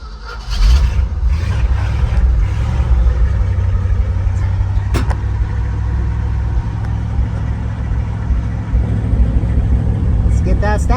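A 1970 Ford 600 hay truck engine runs close and loud, a steady deep rumble after it catches at the start, holding even throughout with a brief clank midway.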